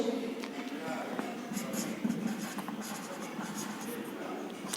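Faint scratchy strokes of writing on a board run steadily through a physics lesson on electrostatics and Coulomb's law. The sound is quiet and continuous, sitting under a low room background.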